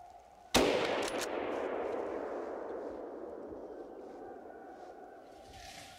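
A single loud rifle shot fired at a wild boar during a hunt cracks out sharply and rolls into a long, slowly fading outdoor echo, with no voices.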